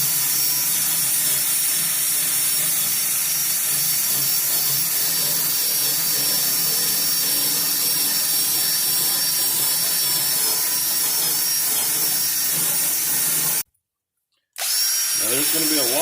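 A cordless drill fitted with a wire brush head scrubs old food residue and rust off a barbecue grill grate, a steady loud whirring grind that runs continuously, cutting out briefly near the end before resuming.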